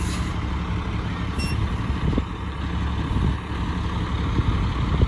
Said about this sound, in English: Oh, we got a truck coming across the crossing now.